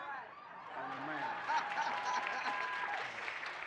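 An audience at a protest anniversary gathering claps steadily for several seconds. The applause swells after a quieter start, with a voice and some laughter faintly underneath.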